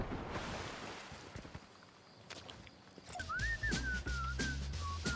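A person whistles a wavering melody during Fortnite voice chat, the tune rising and falling clearly in the second half after a stretch of game noise, footsteps and low rumble.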